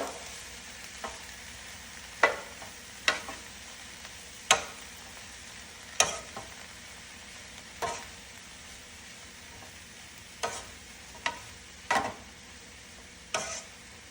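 Mushrooms sprinkled with turmeric powder and salt are stirred in a pan, giving a faint steady sizzle broken by a dozen sharp, close scrapes and clacks of the spoon at irregular intervals.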